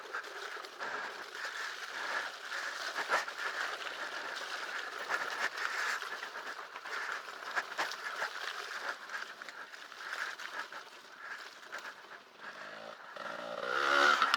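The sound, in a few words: Light Bee electric dirt bike riding on race loop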